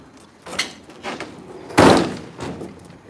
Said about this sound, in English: when you pull the door down